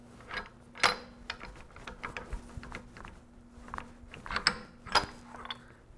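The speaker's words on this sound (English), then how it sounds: "It says, pull on your crankshaft." Pulling the crankshaft on the breech mechanism of a 40mm saluting gun gives close metallic clicks, clunks and ratcheting knocks that come in scattered bursts over a low hum.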